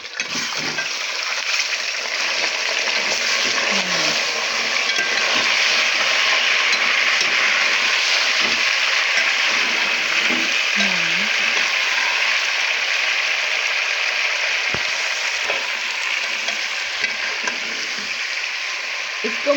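Chicken frying in a pan with browned onions for nihari, a loud, steady sizzle filling the whole stretch with occasional stirring clinks and a faint voice underneath.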